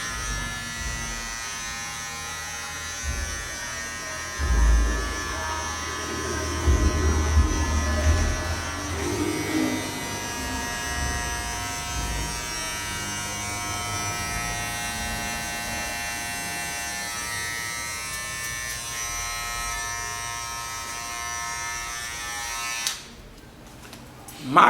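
An electric hair clipper buzzes steadily during a men's haircut with combs of different guard lengths, a close, continuous whine with some handling noise partway through, while someone talks quietly.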